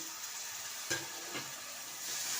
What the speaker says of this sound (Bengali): এবার এটাকে খুব ভালোভাবে নেড়ে নেবো, যতক্ষণ না তেল ছাড়ে নাড়তে থাকবো